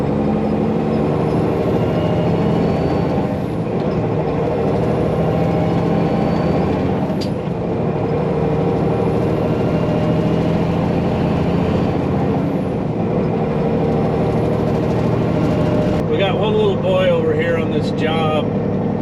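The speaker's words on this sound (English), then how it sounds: "It's always fun to cross 5 lanes of traffic." Steady roar of heavy multi-lane traffic, vehicles rushing past continuously with engine drone and tire noise, a few brief chirps near the end.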